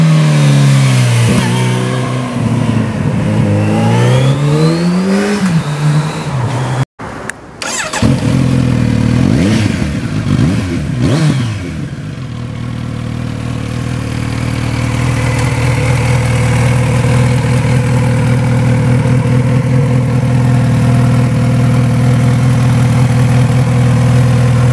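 A 2018 Kawasaki Z900RS motorcycle engine blips and revs loudly up close, several sharp throttle sweeps rising and falling, then a brief break before it settles into a steady, rumbling idle.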